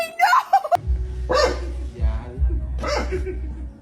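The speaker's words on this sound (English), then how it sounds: "Barking like a guard dog," A dog gives a few sharp barks close up, with bursts of human laughter between them in a noisy home setting.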